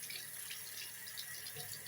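Water running steadily from a tap, a continuous bright hissing stream with no pauses, fairly faint and heard alone.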